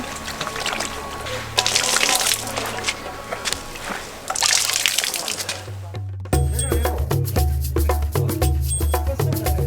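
Hands washing in a basin of dirty water during a Himalayan trek, close sloshing and trickling, switching partway to steady rhythmic splashing.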